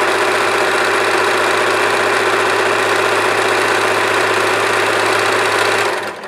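A Usha Janome Allure sewing machine stitches steadily, a fast, even mechanical whir and rapid needle clatter running loud and close before stopping abruptly at the end.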